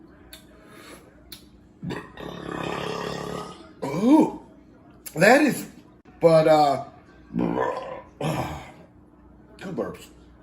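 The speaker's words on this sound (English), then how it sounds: "two burps." A man burps several times over about ten seconds, with loud, throaty, croaking belches in separate bursts and a short spoken remark near the start.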